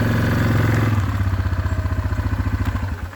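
ATV four-wheeler engine running loud and close, revving briefly and then settling into a steady rhythmic idle chug; no talking.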